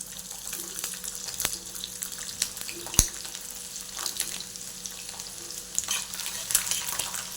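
Plenty of garlic sizzles in hot oil for fenugreek greens, a steady close frying hiss with stirring scrapes and one sharp clank of a utensil partway through.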